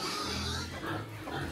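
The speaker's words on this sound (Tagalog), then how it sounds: "Hala, nag-iyakan na yung mga baboy." Pigs on a rural farm squeal and grunt loudly at close range, an unbroken noisy chorus of cries with no clear breaks.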